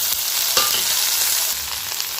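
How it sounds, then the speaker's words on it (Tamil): Loud, steady sizzling of chopped okra stir-frying in a hot pan, with a few scraping stirs; no voices. "இப்போ நறுக்கி வச்ச வெண்டைக்காயெல்லாம் சேர்த்தாச்சு இப்போ நல்லா மிக்ஸ் பண்ணிக்கலாம்"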